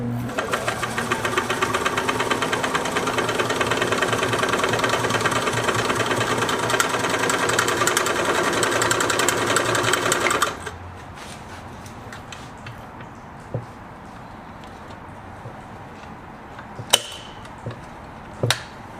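A Singer sewing machine stitches cotton thread in a fast, steady mechanical chatter for about ten seconds, then stops, leaving quiet handling and a few sharp metallic clicks.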